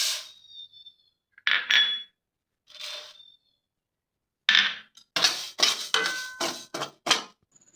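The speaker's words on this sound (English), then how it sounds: "Now let's roast the spices and coarsely grind them." Spices roasted in a pan for lemon peel pickle, heard as bursts of metallic scraping and rattling as a spoon stirs them, separated by silent gaps, close and clear with no voices.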